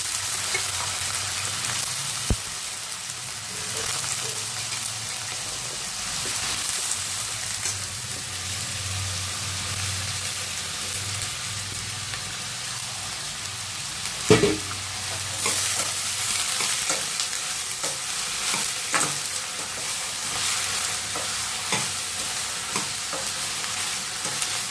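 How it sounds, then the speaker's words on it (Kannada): Bitter gourd fries in hot oil in a pan, giving a steady, loud sizzle with scraping stirs throughout, close by and without speech. "First ಹಾಗಲಕಾಯಿನ fry ಮಾಡ್ಕೊಂಬಿಡೋಣ."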